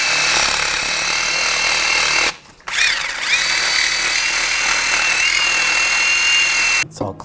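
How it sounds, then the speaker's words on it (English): A wire brush scrubs corrosion off the wheel hub of a 2004-2009 Audi A4 Quattro during a front wheel bearing replacement, a loud, close, rasping scrape that runs continuously with one brief pause. "I'm just going to take a wire brush and just clean this up."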